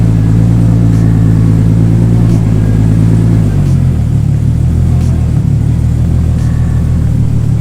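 A Nissan R32 Skyline fitted with a Vibrant muffler idles after a cold start, its exhaust a steady, deep rumble that is loud and near, settling to a lower, smoother drone partway through.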